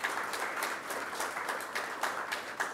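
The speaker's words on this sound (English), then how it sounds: "I request all of you to please carry it out with a great round of applause." An audience at a school event gives a sustained round of applause, with many hands clapping steadily and some sharper individual claps standing out, heard at moderate distance with no talking.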